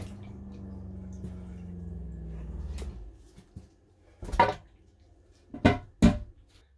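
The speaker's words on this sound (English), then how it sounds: "And then to flush it, you push it all the way down." A Dometic 320 RV toilet flushing: about three seconds of low rushing water that stops, followed by several sharp mechanical clunks from the pedal and valve closing.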